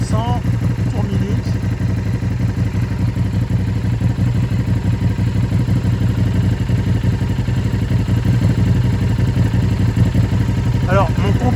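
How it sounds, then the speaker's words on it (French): A KTM RC8R sport motorcycle idles steadily near 1500 rpm, its engine a close, even, continuous rumble with a faint whir on top, running alone without a break. "j'ai bien mon ralenti qui est vers les 1500 tours minute"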